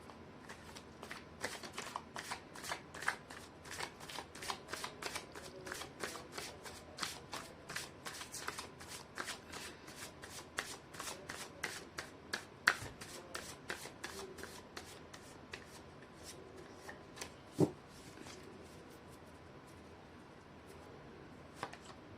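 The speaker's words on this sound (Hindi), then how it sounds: "कर लेती हूँ कार्ड की शफलिंग।" Tarot cards are shuffled over and over in a steady, papery riffle, close and fairly quiet, with brief louder slaps and taps near the middle and toward the end.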